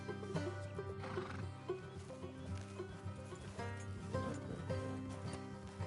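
A horse whinnies over the clip-clop of hooves in the video game Red Dead, with music playing beneath, moderately close and quiet overall.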